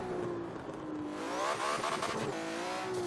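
An MG Metro 6R4 engine in the Forza Horizon 3 racing game, revving hard with rising and falling pitch sweeps as it pulls through the gears, loud and close, with hints of tire noise.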